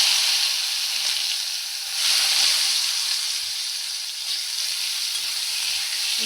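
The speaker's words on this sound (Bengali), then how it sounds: "যে তেলটা আছে এই তেলেই আমি বেগুনটা ভাজবো।" A whole eggplant frying in a little oil, giving a steady bright sizzle and hiss close by that swells slightly midway, with no talking.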